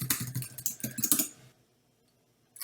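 Rapid keystrokes on a computer keyboard as a sudo password is entered on Ubuntu, a quick burst of close clicky taps that stops abruptly into near silence.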